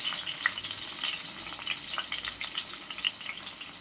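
Small onions sizzle steadily in a hot pan for a fish curry, a continuous bright frying crackle with occasional pops, close and alone with no voices.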